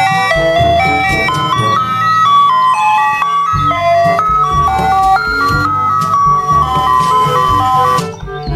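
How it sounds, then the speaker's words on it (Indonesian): Toy ice cream truck playing its tinkling electronic jingle, a loud, close, continuous melody of bright notes that carries on through the whole stretch with no voices over it. "Di sini ada mobil es krim."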